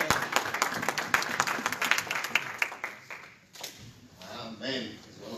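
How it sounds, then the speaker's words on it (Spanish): A church congregation claps loudly for a pastor, with strong, dense applause that thins into scattered claps and shuffling. A voice speaks in Spanish over the fading end. "Vamos a dar un aplauso para Pastor Gil Torres."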